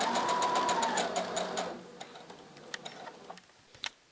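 Sewing machine stitching a chain of pleated fabric face masks, a steady fast mechanical rattle that slows and stops, followed by a few isolated clicks and taps.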